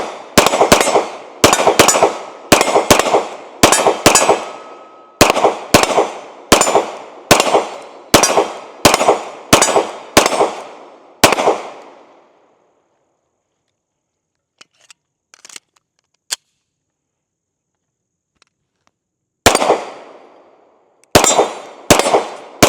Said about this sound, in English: Let's go ahead and load it up and take a few more shots with it.